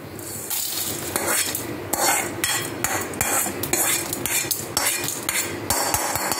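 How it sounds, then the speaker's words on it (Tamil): Chana dal being dry-roasted in a pan with a little oil: loud, continuous metal-on-pan scraping and clattering from a stirring spoon over a hissing sizzle, close up and steady, with no voices. "இந்த மாதிரி சகப்பாக வறுத்துக்கோங்க கடலைப்பருப்பையும்"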